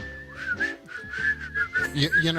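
A clear, melodic whistled tune plays with accompanying music underneath, a few quick notes that rise and fall.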